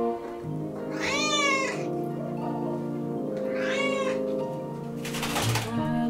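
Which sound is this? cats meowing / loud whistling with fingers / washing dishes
cats meowing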